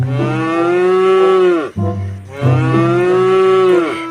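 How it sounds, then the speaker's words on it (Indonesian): Two long, loud cow moos, close by and separated by a short pause, with no talking. "di sini ada suara sapi teman-teman"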